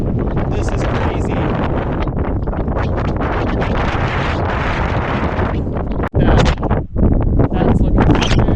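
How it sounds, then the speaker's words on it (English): Strong gusts batter the microphone at a glacier viewpoint, a loud continuous roar of wind buffeting with a brief drop near the end before it surges back. "it's windy as heck"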